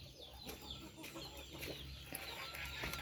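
A chicken clucks in soft, irregular bursts close by, with faint background noise and scattered clicks throughout.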